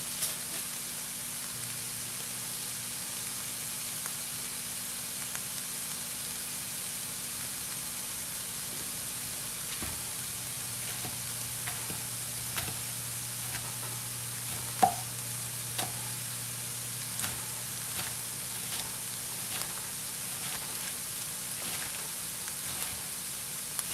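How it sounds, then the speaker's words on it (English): A whole onion and mushrooms sizzle gently in a pan for a pizza-bread topping, a soft, steady crackle with scattered louder pops and occasional utensil taps, fairly quiet and without voices. "I'm just going to try to get a little bit of color on these onions and get them to break down a bit"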